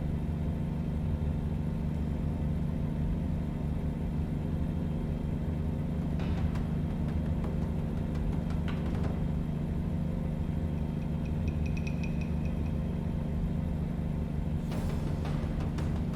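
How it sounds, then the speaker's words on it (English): NPC traffic cars in American Truck Simulator with a rough, poorly tuned diesel-like engine note, a steady low rumble droning continuously throughout with faint clicks and brief higher noises on top, no talk. "The NPC car sounds, they all sound like diesels."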